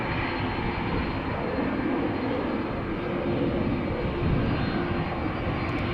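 An EasyJet airliner's jet engines at Amsterdam Schiphol Airport make a steady, loud, broadband roar that holds level throughout, with no voices over it.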